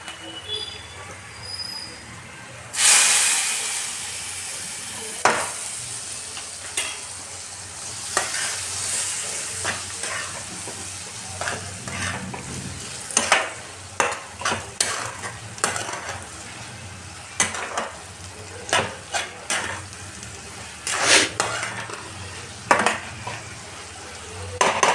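Carrot halwa being stirred and roasted in ghee in a pan, a steady close sizzle broken by repeated scraping strokes of a spoon against the pan.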